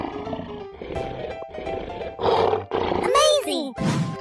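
A lion roar from a video game bursts out loud amid game music and effects, with a high whooshing sweep near the end and a voice chattering throughout.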